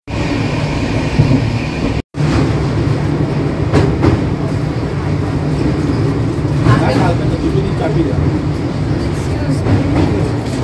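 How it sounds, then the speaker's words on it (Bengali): The Tourist Express 15777, a New Jalpaiguri to Alipurduar service with LHB coaches, rolls into Chalsa station with a loud, steady rumble of wheels on rails and light clatter from the cars, briefly cutting out once. "আমাদের ট্রেন এসে পৌঁছলো চালসা স্টেশনে"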